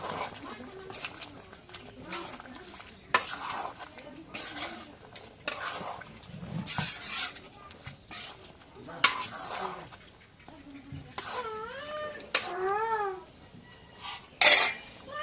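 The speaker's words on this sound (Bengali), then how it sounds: "আলুটা শেষ, এখন নাড়া দিই" Potatoes frying in a pan and stirred with a metal utensil, giving clanking scrapes and knocks against the pan over a light sizzle, close by, while a person talks intermittently.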